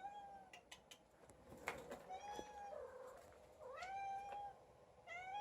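A cat meows repeatedly near the microphone in an indoor room, a series of rising and falling calls with short pauses between them and no talk over them.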